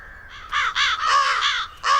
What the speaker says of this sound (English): So how can I stop the crows from eating my seeds?